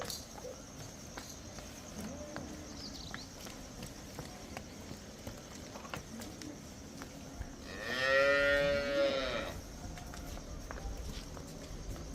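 A cow on a dairy farm lets out one long, loud moo partway through, rising over quiet farmyard background with faint shuffling and footsteps.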